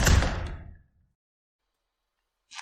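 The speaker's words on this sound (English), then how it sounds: "Slam the door" A door slams shut with one loud, broad thud that fades over most of a second, followed by silence and then a faint short hiss near the end.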